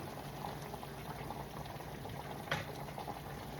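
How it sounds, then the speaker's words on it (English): Water poured into a cooking pot for rice and peas gives a steady, close rushing and bubbling liquid noise throughout, with one brief clatter near the end and no talking. "Pour the water."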